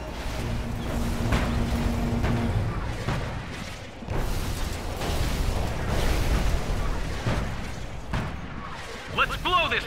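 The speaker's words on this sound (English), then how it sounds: "More rockets!" Rocket fire and explosions from a Command & Conquer 3: Kane's Wrath battle: dense, continuous booms and rumbling blasts layered over one another, with a brief steady tone early on and a sharper cluster of bursts near the end.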